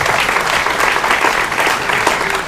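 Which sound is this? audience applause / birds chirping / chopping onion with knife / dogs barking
audience applause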